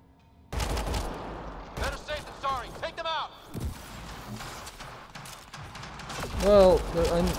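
Pistol gunfire in the video game Mass Effect Andromeda, a burst of sharp repeated shots followed by scattered single cracks amid combat effects, with a player talking between them.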